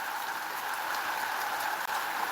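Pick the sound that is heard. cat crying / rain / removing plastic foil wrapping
rain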